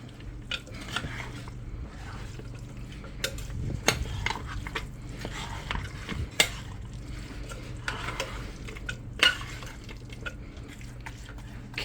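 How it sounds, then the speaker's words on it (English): Cheddar jack cheese and taco casserole mixture being stirred together in a pot or dish, a soft irregular scraping and wet squelching with occasional sharp clinks of utensil against the vessel, close and moderately quiet, with no talking. "And now we stir. Stir that all together."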